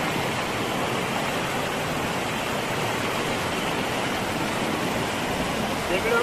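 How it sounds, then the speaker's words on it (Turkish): A waterfall pours in a continuous, dense hiss and roar, steady and loud throughout with no pauses. "Şelalenin görüntüsü muazzam."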